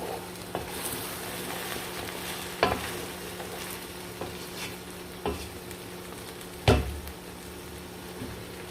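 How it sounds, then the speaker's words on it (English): Chili frying in a pot of okra stew gives a steady low sizzle. Occasional sharp scrapes and knocks come from a spoon stirring against the pan, and no one speaks. "Then you add your chili, because you want it to cook."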